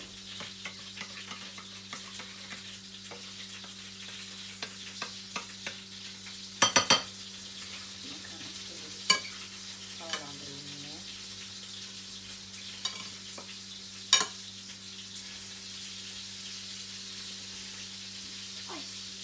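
Oil with water in it sizzles quietly in a home kitchen pan, with a soft steady hiss, occasional sharp spatters and pops, and a few clinks of utensils against the pan.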